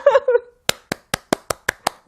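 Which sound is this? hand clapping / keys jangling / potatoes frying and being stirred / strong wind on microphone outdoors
hand clapping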